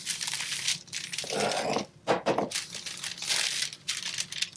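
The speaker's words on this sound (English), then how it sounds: "you can use a water glass to crush these down" Cheesecake crust crumbs are crushed with a water glass, giving close, repeated crunching and crinkling bursts in uneven strokes with short pauses, and no talking.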